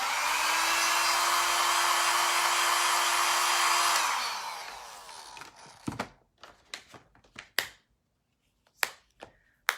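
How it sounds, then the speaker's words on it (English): A hair dryer blows steadily at close range for about four seconds, then winds down and stops, followed by scattered light clicks and taps in the quiet. "I'm gonna blow dry it so it doesn't go anywhere"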